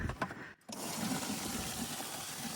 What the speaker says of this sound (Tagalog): Nag-iigib ako ng tubig.